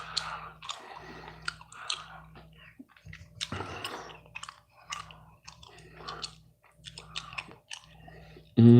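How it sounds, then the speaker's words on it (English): Close, wet chewing of snack food at a Thanksgiving snack chat, with repeated crunchy bites and squishy mouth sounds in an irregular rhythm over a low steady hum, and a loud burst at the very end. "I'm just gonna chew."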